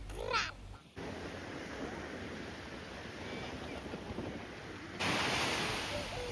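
Sea waves wash steadily onto a beach at Hrybivka, a broad continuous surf roar with wind, after a brief clattering start and a sharp jump in level near the end; crows caw faintly.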